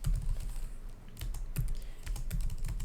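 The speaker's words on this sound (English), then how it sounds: "So here I'm typing var" Close clatter of a computer keyboard being typed on, a quick uneven burst of keystrokes with a short pause midway, fairly quiet and with no voice.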